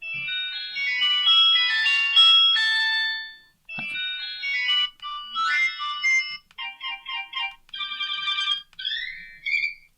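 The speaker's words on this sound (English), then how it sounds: "you can have the standard alarm tone, or you can come down and select ringtone" A Nokia 105 keypad phone plays a bright, electronic ringtone melody from its small speaker, previewed as an alarm tone. Runs of quick beeping notes come in separate phrases with short gaps between them, and no one speaks.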